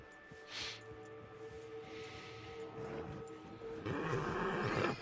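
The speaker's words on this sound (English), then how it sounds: "That actually sounds more like a grizzly. Is that a grizzly? That's a black bear." A black bear growls in Red Dead Online, with low rumbling roars and snorts swelling and fading against outdoor ambience, growing louder and rougher toward the end.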